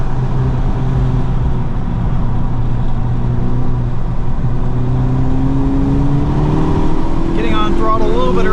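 Honda Civic Type R FL5 engine pulling on throttle around a flooded, slippery track, a steady loud drone with pitch rising toward the end, faint talk beneath.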